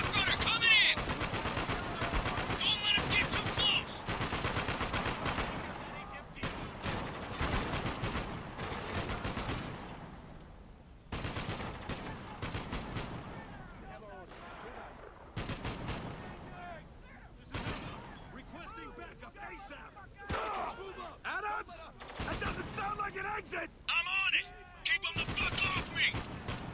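Mounted turret machine gun in Spec Ops The Line firing long, loud automatic bursts broken by short pauses, mixed with scattered enemy gunfire and explosions in a chaotic firefight.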